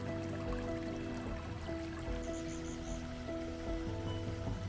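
Water running through a mountain valley stream near a temple in Damyang, Korea, a steady close rushing and trickling, with faint birdsong chirps briefly above the flow.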